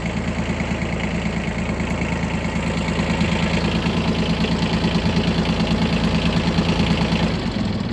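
A Yanmar Ke-3 four-wheel-drive Japanese mini tractor's engine idles steadily up close, a dense, even chugging drone with a fast regular knock and no talk over it.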